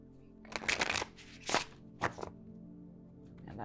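A deck of tarot cards is shuffled by hand in a few quick riffling bursts separated by short pauses, crisp and close in an otherwise quiet room.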